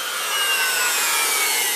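An electric sander runs against wood, giving a loud, close, steady rasping whir that does not let up, with no voices.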